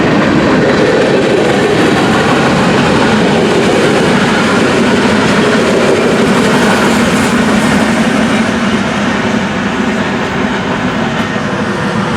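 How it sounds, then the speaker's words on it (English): A loud, close Union Pacific train rolling westbound on Sherman Hill toward Cheyenne, with a constant rumble and faint rhythmic clatter, no voices. "There we're starting to catch up with the uphill bound train."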